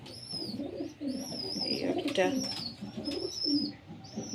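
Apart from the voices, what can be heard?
pigeon chicks calling in a rooftop pigeon house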